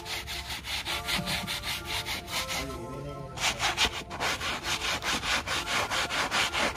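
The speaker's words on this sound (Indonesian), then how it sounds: "Yui, lagi nyuci karpet. Nyuci karpet dasar ini, Mas ya?" Rhythmic back-and-forth scrubbing of a car's floor carpet during interior detailing, steady repeated brush strokes close up with a brief pause midway, no talking.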